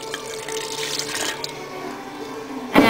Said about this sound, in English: And then you pour in your milk.